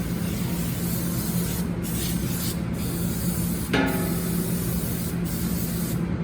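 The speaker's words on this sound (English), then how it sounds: "spray the inside of your pan." Grill spray hisses steadily from a can into a pan, one continuous close spray with a few brief breaks and a small clunk partway through.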